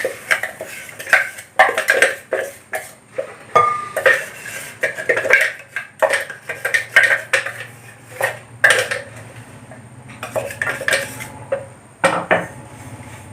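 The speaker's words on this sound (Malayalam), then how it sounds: "ഇനി അതൊരു പൗളിലേക്ക് മാറ്റാം" Crushed Oreo biscuit powder being moved into a bowl, with repeated clinks and scrapes of a spoon against dishes, irregular knocks and rattles close by, and a low hum in the background.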